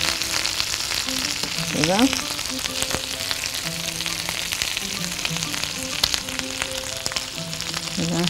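Hot dogs sizzling on a grill, a constant crackling fry with sharp pops and spits, with someone speaking briefly over it.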